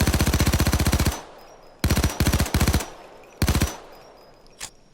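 FN P90 (Kobus 90) personal defense weapon firing in Payday 2: a long rapid automatic burst, then several short bursts with gaps between, loud and close, ending with a single faint shot.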